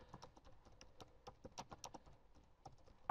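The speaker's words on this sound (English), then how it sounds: "let's say I wanted to type in" Typing a search query on a computer keyboard, a rapid irregular run of close, quiet key clicks heard alone.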